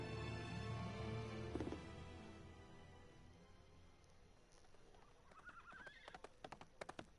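A horse in the Tales of Vesperia video game gives a loud, drawn-out neigh, then hooves clatter in a quick burst of clip-clops toward the end, near and with no talk.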